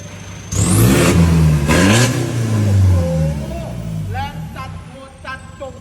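Isuzu 3.0 pickup, a 2021 model with low mileage, revving hard twice, rising and falling loud and close, then settling to a lower hum while a voice speaks over it.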